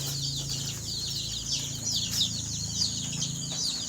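A flock of young desi chicken chicks peep busily while feeding, with high, overlapping chirps running continuously over a low steady hum and no talking.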